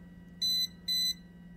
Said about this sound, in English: You get a slower beep and a flashing light when it's a higher voltage detected.